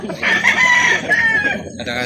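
A rooster crows loudly and close by in one sustained call at a chicken market in Calauan, Laguna, with faint background noise beneath.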